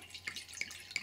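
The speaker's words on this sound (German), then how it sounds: "Da werden wir jetzt mal erstmal das Wasser reinschütten." Water dripping and splashing in a quick run of separate drops into a bowl, to be mixed with plaster; faint and close, with no voices.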